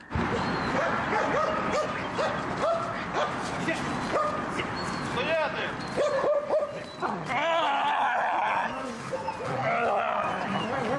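Service dogs that search checkpoints for weapons and contraband bark, yip and whimper in repeated close bursts, with a voice talking over them throughout.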